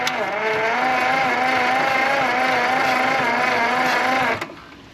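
International 484 tractor engine cranking over on the starter, a steady whirring drone with a rising-falling pitch that cuts off abruptly near the end.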